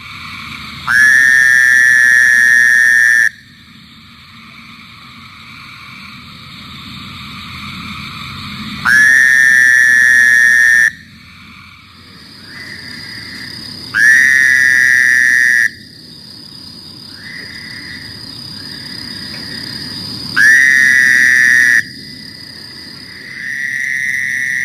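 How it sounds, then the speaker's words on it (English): A Fowler's toad (Anaxyrus fowleri) gives four loud, nasal, buzzing whines, each lasting about two seconds and spaced several seconds apart, over faint chirping from other frogs and insects. "Fowler's toad, Anaxyrus fowleri, formerly Bufo fowleri."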